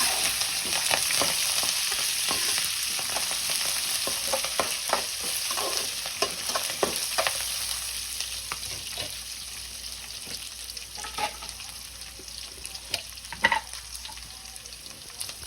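Curry leaves and green chillies frying in hot oil for an amaranth stir-fry, a steady close sizzle broken by frequent crackles, pops and the scrape of stirring throughout.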